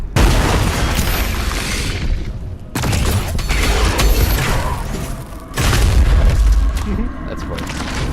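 Grenades go off in a video game: three heavy booming blasts roughly every three seconds, loud and close, each with a rumbling low tail, while someone talks over the action.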